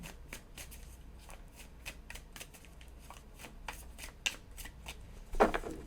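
Tarot cards being shuffled and drawn from a deck, a close run of quick rhythmic riffling flicks followed by a slightly louder slap of cards at the end.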